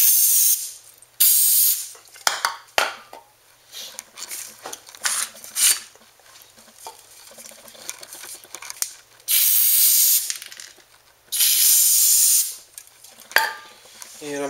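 Brake cleaner sprays onto the brake rotor of a Ford Focus in several loud, hissing bursts of varying length, some long and sustained, with scattered metallic clinks and handling noises between them.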